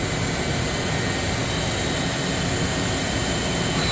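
A Yama Seiki VP-2012HD CNC bridge mill spindle spins at high RPM, giving a loud, steady, broadband whine and rush that holds constant for the whole four seconds.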